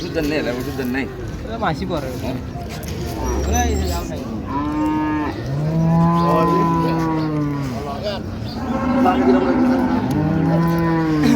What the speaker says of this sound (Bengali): এখানে একটি গাভী বাছুর দেখছেন